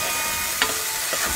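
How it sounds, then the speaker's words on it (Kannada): Green peas fry in oil with a continuous close sizzle while a couple of quick stirring scrapes cut through the hiss. "ಅದಕ್ಕೆ ನಾನು ಎಣ್ಣೆಯಲ್ಲಿ ಚೆನ್ನಾಗಿ ಅದನ್ನು ಫ್ರೈ ಮಾಡ್ತೀನಿ"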